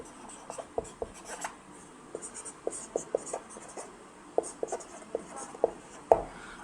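Chalk taps and scratches on a board in a classroom lesson as a sentence is written, a quiet series of short strokes in irregular rhythm, faint and close.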